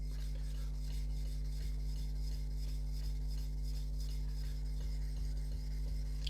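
A knife blade rasps back and forth on an 800-grit NSK Oboro whetstone, a steady, even scraping in regular repeated strokes over a low constant hum, close up, with no voices.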